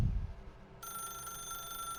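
A telephone rings in The Stanley Parable: Ultra Deluxe on PS5, a bright electronic trill that starts abruptly and holds steadily after a low rumble, with no one speaking.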